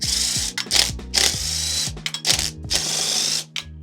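Cordless impact driver spinning out 8mm clutch cover bolts on a CFMoto Ibex 450, several short whirring, rattling bursts, one after another, close by with brief pauses between bolts.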